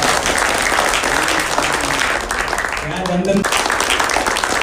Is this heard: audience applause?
yes